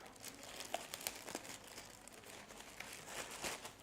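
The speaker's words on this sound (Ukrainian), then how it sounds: "Зараз я витягну з пакета їх." A plastic bag crinkles and rustles as a pair of work gloves is pulled out of it, a steady run of soft crackles close by.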